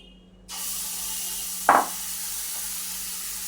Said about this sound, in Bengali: এভাবেই কিন্তু আমি সবগুলো রুটি ভেজে নেব